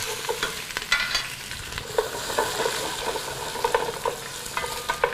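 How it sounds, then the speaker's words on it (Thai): Crushed spice seeds frying in very hot oil for a Thai chicken and green olive stew, a steady crackling sizzle with scattered sharp pops and stirring, close and fairly loud, no talking. "น้ำมันของเรานะฮะร้อนจัดดีแล้วนะครับ ใส่ลงไปเลยครับผม"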